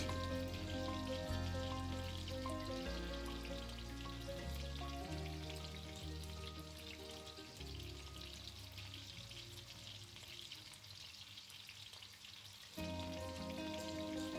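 Ground spices sizzle steadily in a hot pan for aloo dum, a continuous close crackling fry with a faint background tone and no talking.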